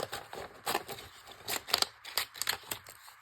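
Scissors snip through a paper label in a quick series of short, crisp cuts, close up and fairly quiet, with brief pauses between strokes.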